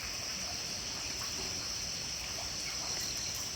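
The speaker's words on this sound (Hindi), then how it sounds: "पानी आ रहा है बहुत ज़्यादा।" A mountain spring in Himachal Pradesh pours out water in a strong, steady rush, a continuous close hiss and gurgle that fills the whole moment without pause.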